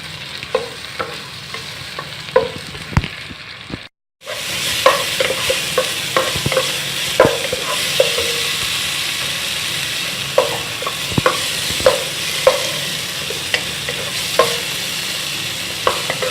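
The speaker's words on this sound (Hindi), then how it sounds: "अब हमने इसको इतनी देर भूनना है कि ये वाइटनेस जो है ये ख़त्म हो जाए" Nuts and dried fruits (pistachios, almonds, dates, raisins) frying in ghee for sheer kurma, a steady close sizzle broken by repeated stirring scrapes and clicks of a spoon, with a brief silent gap before the frying resumes louder.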